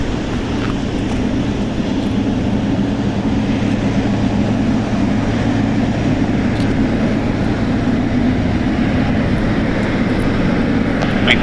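An Eva Air airliner taxis at San Francisco International Airport, a continuous low jet engine hum with a steady tonal drone, heard alone and fairly loud throughout.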